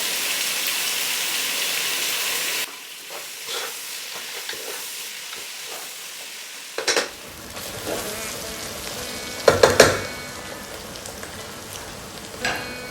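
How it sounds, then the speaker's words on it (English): Onions frying in a pot for lamb biryani while being stirred, a steady sizzle with occasional scraping strokes and a few louder clatters of the spoon against the pan, close and unaccompanied by talk. "And keep stirring it till it's nice and golden brown."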